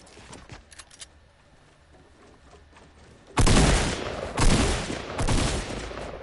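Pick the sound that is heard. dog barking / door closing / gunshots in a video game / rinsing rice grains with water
gunshots in a video game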